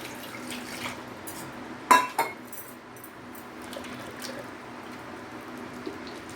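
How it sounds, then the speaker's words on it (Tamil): Water splashes and clatters briefly against a metal strainer while straining beetroot, with a couple of sharp rinsing bursts, then a quiet background hiss. "இதில் கொஞ்சம் தண்ணி ஊற்றி அதையும் அலசிடலாம்."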